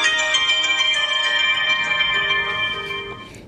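A mobile phone rings with an incoming call placed from a second handset, a loud, bright melodic ringtone repeating steadily before tapering slightly at the end, with no speech.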